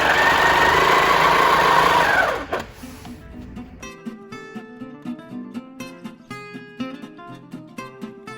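A quilting sewing machine stitching along a ruler on a diamond quilt row whirs loudly and steadily for about two seconds, then stops abruptly. Intermittent faint clicks and rustles follow.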